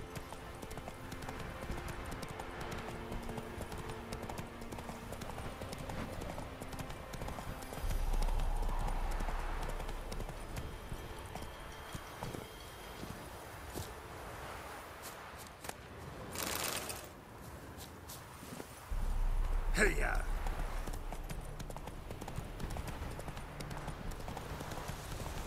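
Hooves of Roach, the horse in The Witcher 3, clip-clopping at a steady trot through Velen, continuous and fairly close, with a swell of heavier hoof noise partway through.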